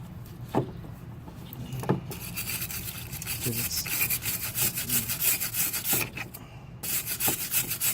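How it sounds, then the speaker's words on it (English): Car battery terminals being scrubbed free of corrosion with an old grill-cleaning brush, making close, steady rasping strokes in a fast rhythm with a few brief knocks, with no speech. "This is just an old, grill cleaner. So with the corrosion out, clean it up."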